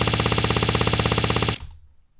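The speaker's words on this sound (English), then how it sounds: "you can hear the last click of the empty shot" A designed gunshot sound effect fires in a rapid, loud, evenly spaced burst, then stops abruptly and leaves a brief low tail as it fades out.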